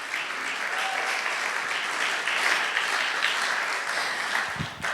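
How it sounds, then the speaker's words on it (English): Sustained applause from a gala audience after a dance performance, steady dense clapping filling the whole stretch with no talking over it. "Let's have another round of applause for the Franklin Learning Center dancers."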